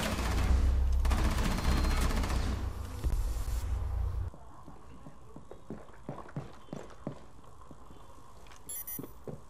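Gunfire from the Rainbow Six Siege video game: a loud burst of sustained automatic fire for several seconds, followed by scattered single shots and clicks at lower level.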